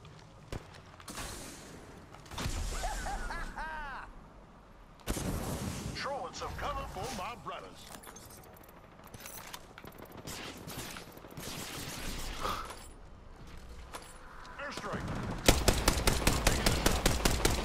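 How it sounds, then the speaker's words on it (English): Bursts of gunfire in the Apex Legends battle royale game, several rapid volleys mixed with game effects and occasional talking, ending in fast repeated shots. "Opening fire"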